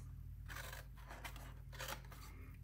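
Scissors cutting the cardboard flaps of a homemade gift bag, several crisp snips close by against a faint low hum.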